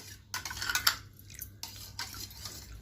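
Rose milk with sabja seeds and almond gum stirred in a glass or vessel, a couple of short bursts of clinking spoon and liquid swirling separated by quiet gaps, close and fairly soft.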